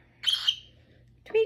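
A pet bird chirps indoors, two short bright calls separated by a pause, close and clear against a quiet room.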